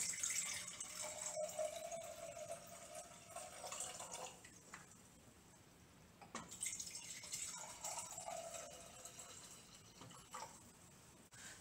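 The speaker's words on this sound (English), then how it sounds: "I fill up the jar halfway with filtered water." Filtered water pours steadily into a canning jar for preserving greens, a close trickling and splashing stream that pauses briefly midway and then resumes, with no voices.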